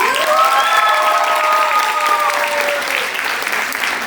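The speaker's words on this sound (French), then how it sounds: "On les applaudit." An audience claps loudly in a dense, sustained burst of applause, with some whistling and cheering mixed in, tapering off slightly at the end.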